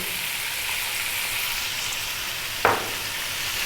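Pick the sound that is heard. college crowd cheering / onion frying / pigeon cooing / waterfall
onion frying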